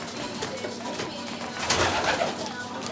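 Racing pigeons coo softly inside a pigeon loft, a close murmur of low, rolling calls that swells briefly partway through, with a few faint voices in the background.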